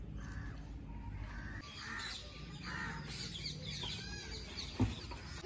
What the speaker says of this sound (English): did you see a cock and hen over here?